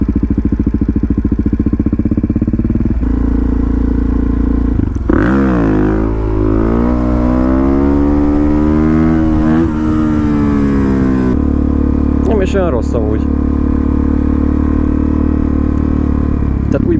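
A motorcycle engine runs continuously while being ridden during wheelie practice, droning loud and close with pitch rising and falling as the throttle opens and eases, and a rider speaks briefly over it.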